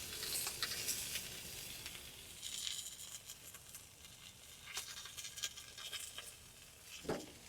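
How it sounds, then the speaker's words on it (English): Steak tortillas sear on a Masterbuilt grill with a steady close sizzle and crackle, plus scattered pops and a brief scrape of handling near the end. "Keep that nice sear going."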